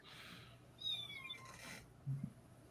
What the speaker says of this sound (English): What, is that a cat? Is that a kitty?